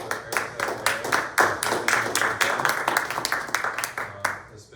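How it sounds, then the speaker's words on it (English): An audience at a Parkinson's financial planning session gives a quick round of applause, brisk uneven clapping that holds steady for several seconds at moderate volume, with faint voices underneath. "So just a real quick round of applause for Erica and Eric."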